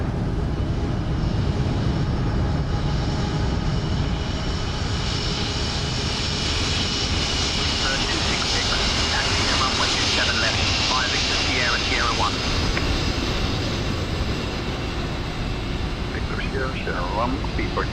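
The engines of a PMDG British Airways Boeing 777-200ER in Microsoft Flight Simulator 2020, queuing at Heathrow, give a loud, steady roar with a high whine for the full stretch, and chirps flicker above it.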